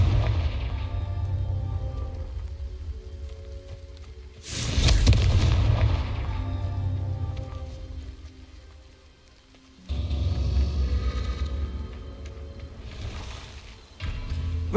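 Confringo blasting spell in Hogwarts Legacy on PC, heard as heavy booming explosions: a deep blast with a long rumbling decay, then a second and a third burst, loud and low-pitched over a quiet game background.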